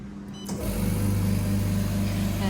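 A vacuum emulsifying machine switches on its vacuum function, a motor hum rising in the first half second and then holding steady and loud as a continuous drone.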